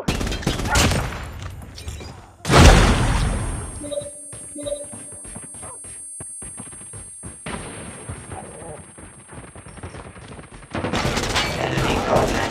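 In the mobile game Call of Duty Mobile, gunfire crackles before a loud, close grenade explosion booms and fades into a long rumbling tail, with more shooting picking up near the end.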